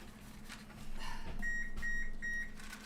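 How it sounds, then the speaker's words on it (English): A kitchen oven signals it has reached temperature with three short, evenly spaced electronic beeps. The beeps are fairly faint over quiet room rustling. "That's the sound of the oven being ready."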